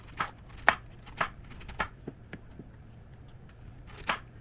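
A knife taps sharply against a chopping board while cutting tofu, in a series of distinct chops, spaced irregularly with quiet gaps between.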